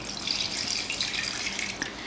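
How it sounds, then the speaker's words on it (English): Water poured from the bottom into a passive hydroponics plant container, making a steady, close trickle with small splashes and drips. "I'm gonna trick it and water it from the bottom."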